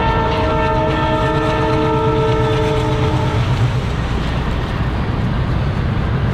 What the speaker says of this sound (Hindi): ट्रेन आ रही है, ट्रेन इतनी तेज़ हॉर्न बज रहा है देखो।